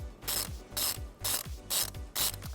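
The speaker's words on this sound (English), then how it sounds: "we're going to remove it using a 10mm socket." A ratchet with a 10mm socket turns a battery positive post nut on a 2016 GMC Terrain, giving five quick, evenly spaced bursts of clicking close by, with no talk.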